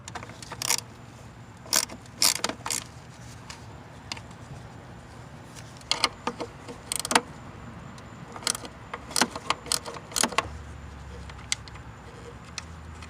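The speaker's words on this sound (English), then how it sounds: "we have to remove the 3 bracket fasteners on the back towards the driver's side. You have one right here, and the other one is located right here, and you'll need that 10mm wrench again" A 10mm wrench works on bracket fasteners in a 2011-2016 Chrysler Town & Country, making scattered sharp metallic clicks and clinks in short irregular bursts over a low, steady background.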